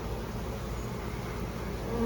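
Honeybees swarming in the air around a hive box while a colony is installed, a dense continuous buzzing hum of many insects close by, steady and even throughout.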